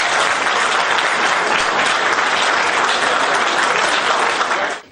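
A general assembly of the FANAF insurance federation bursts into loud, dense, continuous applause and acclamation for nearly five seconds, many hands clapping close together before it cuts off abruptly at the end.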